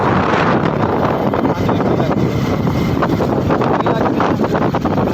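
Heavy wind rushes and buffets a microphone on a motorbike ride through a town in heavy rain, loud and continuous for the whole stretch with no clear talk.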